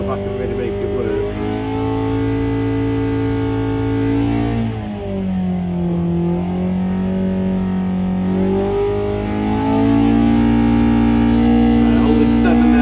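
A Hillman rally engine held at wide open throttle, loud and close, its steady rev dipping briefly in the middle before climbing back to a sustained high drone.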